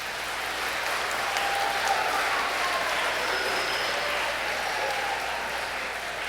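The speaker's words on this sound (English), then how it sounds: "You can applaud for that for sure." Steady applause from a large audience at a seventh grade honor choir festival, a dense continuous wash of clapping that holds even and loud for several seconds with no speech over it.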